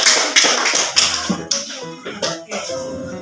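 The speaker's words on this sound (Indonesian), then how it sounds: "Tepuk tangan untuk kelompok 2." Students in a classroom clapping for a group, several bursts of claps close together at a steady beat, sharp and fairly loud, with a faint voice underneath.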